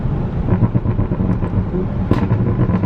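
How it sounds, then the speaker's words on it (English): Tuned Toyota MK5 Supra engine in a hard second-gear pull, a loud, dense low rumble heard from inside the car, steady and throbbing with a brief sharper burst near the end. "Alright, do like another second gear pull."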